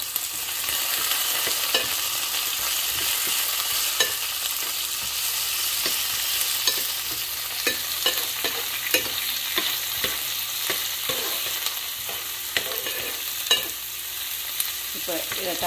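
Onions and curry leaves fry in hot oil for a Jaffna-style green tomato milk curry, a steady sizzle with frequent spoon stirring and scraping throughout, loud and close.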